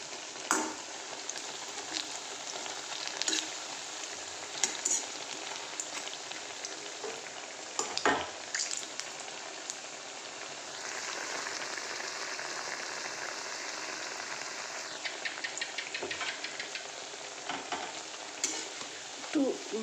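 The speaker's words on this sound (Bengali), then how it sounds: "বেসন বড়াগুলোতে দিয়ে দিয়েছি।" Besan-coated fritters with potato filling fry in hot oil as a steady, close sizzle while a utensil stirs and turns them, with scattered scraping clicks.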